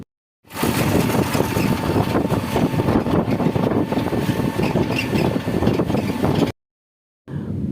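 Steady road rumble and rushing wind while riding in a toto electric rickshaw on a smooth road through Haldibari lined with tea gardens, loud and continuous with no motor roar, cutting off abruptly near the end before resuming briefly.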